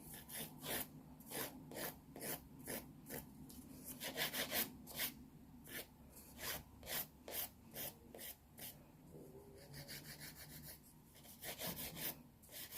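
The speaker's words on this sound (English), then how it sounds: "so I'm just going to file that free edge to make sure that they're all nice and" Nail file rasping across the free edge of freshly cured gel nails, with steady, quick back-and-forth strokes heard close up and alone.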